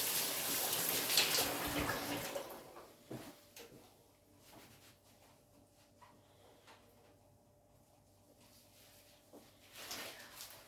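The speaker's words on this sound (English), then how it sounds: "I'll just wash my hands." A running tap splashes loudly for about two seconds while hands are washed in a home kitchen, then the water stops, leaving faint clatter and quiet room noise with a soft hum.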